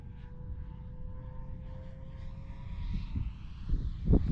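A Flightline Spitfire 1600mm RC model airplane flies at a distance, a faint steady motor whine with wind rumble, and a few low thumps and gusts toward the end.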